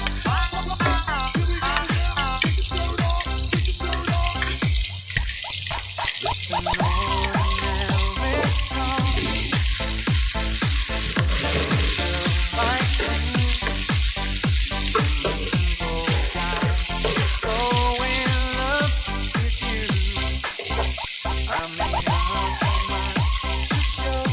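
Onions frying in a pan for a Filipino mung bean stew with pork hock, a steady sizzle running the whole time beneath loud, continuous music.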